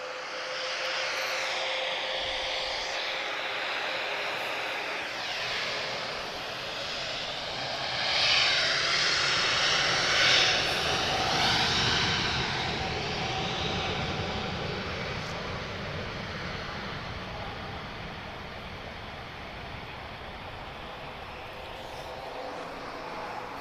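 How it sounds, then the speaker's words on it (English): TAP Airbus A330neo CS-TUG departing Lisbon Airport, its jet engines giving a broad steady roar with a thin whine, swelling briefly near the middle and then holding, with faint talk underneath. "Temos então agora aqui a saída do CS TUG, um Airbus A330 Neo."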